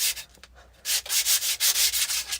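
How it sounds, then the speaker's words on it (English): Close, loud strokes of coarse 80 grit sandpaper rub across wood by hand in quick back-and-forth scrapes, a few slower at first and then a fast steady rhythm, with no voices. "sand them all up"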